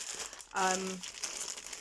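A plastic-wrapped package is torn open by hand without scissors, giving a close burst of crinkling and rustling plastic. A voice talks over it.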